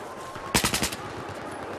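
Automatic machine gun fire in the video game Battlefield 4, one short rapid burst of about five loud cracks followed by a single later shot, over a low game background hum.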